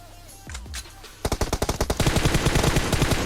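Gunfire in PUBG Mobile: a few scattered shots, then a rapid, sustained burst of automatic fire that grows denser toward the end. Loud and close, with no talk over it.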